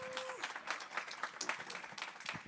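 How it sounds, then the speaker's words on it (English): An audience applauds to welcome a speaker to the stage: dense, steady clapping from a crowd, heard faint and distant and continuing throughout without a break. "So let's please welcome Fernando to the stage with a massive applause"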